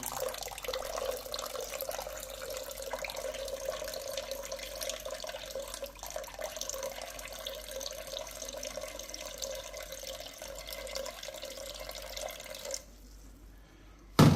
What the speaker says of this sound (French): On verse tranquillement l'eau sur le côté.